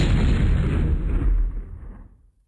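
A forceful air gun weapon attack in the MechQuest video game lands as one heavy, booming blast that fills the low end, holds loud for about a second and a half, then rolls off and fades to silence.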